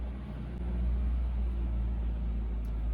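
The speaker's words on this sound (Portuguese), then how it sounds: "É um caminhão passando." A truck passes outside, a deep steady engine rumble heard indoors through the walls, muffled and continuous for a few seconds with no talk.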